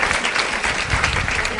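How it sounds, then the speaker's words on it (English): Teachers in the audience at an education summit clap together in steady, dense applause that holds at an even level through the short stretch. "I saw some teachers applauding"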